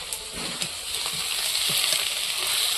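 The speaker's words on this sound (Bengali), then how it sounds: "আলুর সঙ্গে ভালো করে আমি মশলাটা কষিয়ে নেব।" Spice paste sizzles with potatoes in a pan, seasoned with Kashmiri chilli powder; a steady, close hiss runs throughout, broken by soft scraping stirs.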